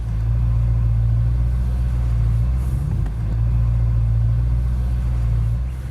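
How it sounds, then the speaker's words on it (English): A BMW M3 fitted with an Acura exhaust idles close by with a deep, droning rumble, steady apart from a slight dip and blip near the middle, with no talking. "Let me move the M3 with its garbage freaking Acura exhaust."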